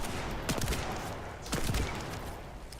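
A hand cannon fires in the video game The First Descendant, two loud booming shots about a second apart, each followed by a ringing tail over dense game noise.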